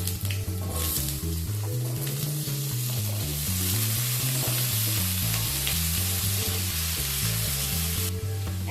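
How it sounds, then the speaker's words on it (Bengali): Potatoes and papaya fry together in hot mustard oil in a kadai, giving a steady, dense sizzle that runs throughout, accompanied by rhythmic background music. "তেল গরম হয়ে গেলে এর মধ্যে একসাথে আলু আর পেঁপেগুলোকে দিয়ে দেব।"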